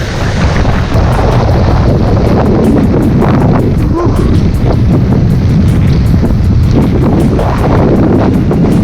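Strong wind batters the microphone on a coastline during sea bass lure fishing, a loud, continuous roaring rumble with gusty buffeting and the wash of surf beneath it, steady throughout.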